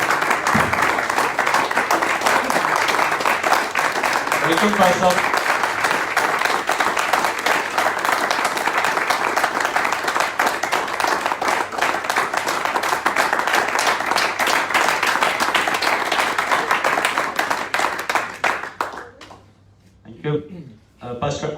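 Loud, sustained applause from a church audience welcoming a pastor being greeted with flowers, a dense wall of clapping that fades out near the end, with someone speaking briefly over it.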